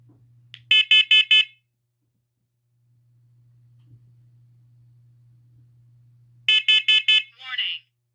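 A collection of smoke alarms sounding in loud bursts of four sharp, high beeps each, the first set near the start and a second set after a low, steady hum, the last burst trailing into a short spoken voice alert.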